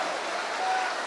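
A church congregation bursts into applause, a dense, steady wash of many hands clapping together at even strength with no voices standing out.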